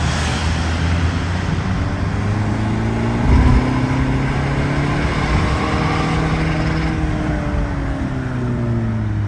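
A tuned Peugeot 208 1.4 HDi diesel with a big turbo, intercooler and downpipe pulls hard in second gear, its steady loud engine drone rising in pitch toward the rev limiter, with strong road and wind noise throughout.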